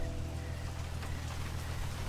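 Heavy rain pours steadily, a dense, even hiss of drops with a low rumbling undertone, continuous and fairly close throughout.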